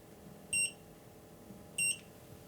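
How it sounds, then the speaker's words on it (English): An EX-TEC PM 5xx gas leak detector sounding its CO sensor alarm: two short, shrill electronic beeps about a second and a quarter apart, loud and clear over a faint background hum. "In this case, we can see an alarm trigger for the CO sensor."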